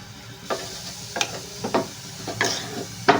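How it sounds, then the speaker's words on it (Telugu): Food fries in oil in a pan with a low, steady sizzle, broken by several quick, close spatula scrapes at irregular intervals. "ఆయిల్ ఎక్కువ వేసాను అయినా కనిపించట్లేదు ఏంటో మళ్ళీ వేస్తాను ఇదైతే ఫ్రై అయిపోతుంది కదండి"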